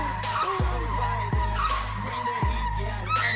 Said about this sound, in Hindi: और फर्स्ट टाइम में ड्रिफ्टिंग शुरू कर दी।